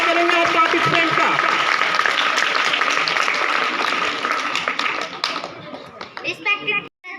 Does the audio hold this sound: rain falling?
no